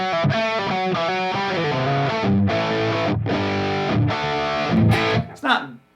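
Les Paul electric guitar played through a heavily compressed effect, a sequence of sustained, evenly levelled chords and notes with brief gaps between them, loud and close, ending in a short decaying strum.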